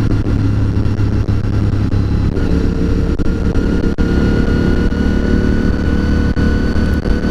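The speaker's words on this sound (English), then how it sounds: "Is that a Super Trap exhaust?" A Honda GT Hawk motorcycle fitted with a Super Trap exhaust runs steadily close by, a loud continuous engine drone with a deep low rumble that holds constant for several seconds.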